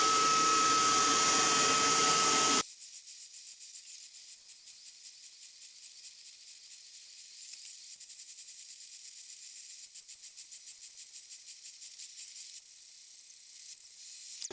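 A CNC machine cuts a knife blank in a shed workshop, a steady high-pitched spindle whine with faint rattling chatter running continuously after a loud, broadband burst at the start.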